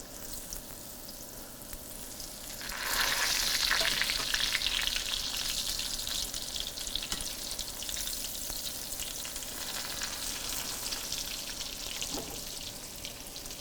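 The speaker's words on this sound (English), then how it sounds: "I'm frying this in light olive oil." Steady oil sizzling as chicken fries in light olive oil in a pan, growing louder and brighter after a few seconds, then a continuous crackling hiss with no talking.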